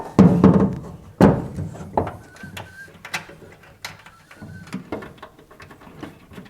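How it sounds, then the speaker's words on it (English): Pedal box being fitted and bolted into a Porsche 964 cockpit: a series of sharp metallic clunks, knocks and ratcheting clicks at irregular intervals, close by, with quiet pauses between. "So we're going to put it in there and bolt it in place"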